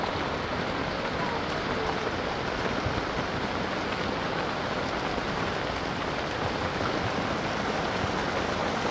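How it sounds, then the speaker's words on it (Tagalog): Heavy rain pours steadily over a boat out at sea, a dense, unbroken hiss that stays loud and even from start to finish. "At lumakas na po uli ang ulan."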